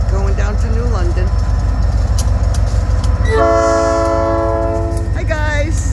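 A southbound freight train hauled by a single locomotive passes close by with a loud, steady rumble. Its horn sounds a long, sustained blast partway through, and a voice is heard early on.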